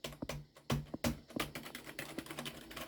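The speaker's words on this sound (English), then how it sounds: "This keyboard works pretty well" Typing on a Dell OptiPlex 755 keyboard gives a close, quiet run of irregular key clicks with a few sharper strikes. No one speaks.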